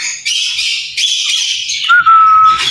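Pet parrots let out to fly free give loud, close, raspy squawks in a few bursts, followed by a sustained whistled note.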